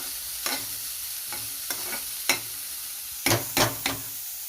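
Chopped leafy greens are stirred into onions frying in a pan: a soft background sizzle with about seven sharp, irregular spatula scrapes close by, the last few coming in a quick cluster.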